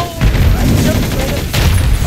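A hellhound blowing itself up in Modern Warfare 3: loud, dense booming blasts that fill the whole stretch, with a brief dip and a second heavy burst near the end, and no talking.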